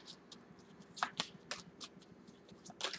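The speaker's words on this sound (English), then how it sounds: "I'm going to shuffle these cards one last time." Quick riffling snaps of playing cards being shuffled, several crisp bursts in a row, close and fairly quiet.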